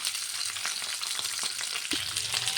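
Slit ivy gourds (tindora) fry in oil in a pan with a dense, continuous, close-up sizzle, broken by a few soft stirring scrapes.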